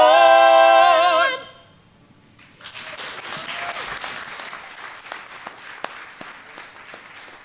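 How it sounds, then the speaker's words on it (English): Audience applause at a youth oratorical contest honoring Martin Luther King Jr., following a speech; after a brief loud tonal passage fades, scattered claps build into moderate, steady clapping with a few sharp individual claps standing out. "how about another round of applause for them getting up there?"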